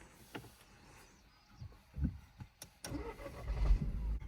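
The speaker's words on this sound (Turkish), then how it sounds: "Şimdi arabayı bir çalıştıralım." A 1.0-litre car engine cranks and starts after a few quiet clicks and thumps, then settles into a low rumbling idle close by.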